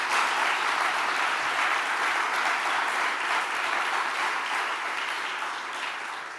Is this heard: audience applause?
yes